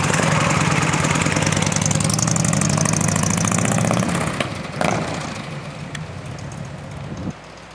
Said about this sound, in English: 93 years old on a motorcycle